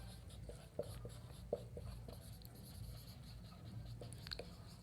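A pen scratching across paper while mathematics is being written out: faint, close strokes and small taps coming in short irregular bursts over a low background hum.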